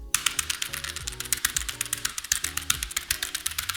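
Hard, fast typing on a keyboard resting on a Secretlab Magnus gaming desk: a dense, steady clatter of close keystrokes with no speech.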